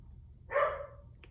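A single dog bark, short and fairly faint, rises once over a low steady background hum in a quiet indoor room.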